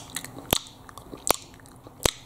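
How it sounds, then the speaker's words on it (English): Close, wet chewing with sharp smacking bites, three loud crunchy snaps spaced roughly evenly among softer mouth clicks, heard alone without any talking. "people who chew insanely loud"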